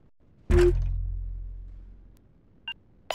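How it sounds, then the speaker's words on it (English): A heavy launch thump from missiles firing in a space strategy game, a deep booming rumble that decays over about a second and a half, followed by a short electronic beep and another burst. "Firing missiles."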